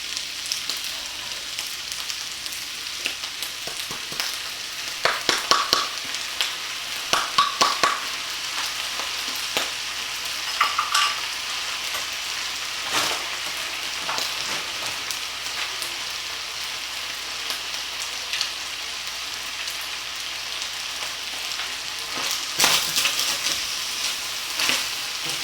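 Kung Pao chicken fried rice with red bell pepper, peas and Kung Pao sauce sizzles steadily in a hot pan, with bursts of stirring and scraping clatter breaking through a constant crackling hiss.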